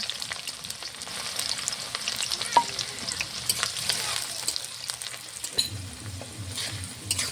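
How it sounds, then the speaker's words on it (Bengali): Onions for biryani sizzle in hot mustard oil in a wok, a steady close crackle with occasional scraping stirs and a few sharp spatters, without any speech. "এই তেলটা টকবক করে ফুটতে পেঁয়াজগুলো দিয়ে দিয়েছি"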